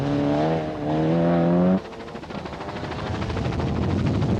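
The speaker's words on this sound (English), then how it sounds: "just look at the way that the 4-wheel drive of the Golf takes off from the line" A four-wheel-drive Volkswagen Golf rally car on a 1991 northern German rally revs with a droning engine note, then launches off the line into a rough, rising roar of acceleration.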